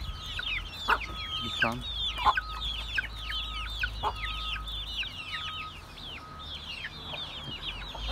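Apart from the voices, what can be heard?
crossbred village hens and rooster clucking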